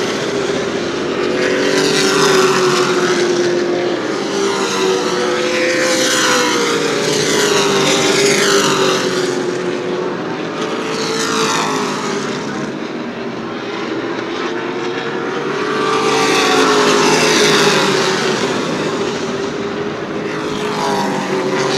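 Pro Late Model race cars roar around New Smyrna Speedway, a loud continuous engine drone that swells and fades in waves as the pack passes by.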